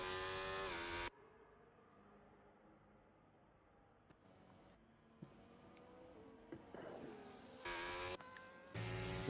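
A race car engine drones on an out lap in a Bahrain racing video game, with a loud revving burst at the start, a quieter steady hum, then rising acceleration and gear-change surges toward the end.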